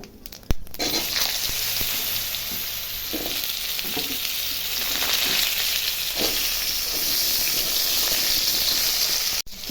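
Potatoes fry in hot oil spiced with cardamom, cinnamon, bay leaf and cumin, giving a steady loud sizzle broken by occasional stirring scrapes, with a sharp clatter at the start and end.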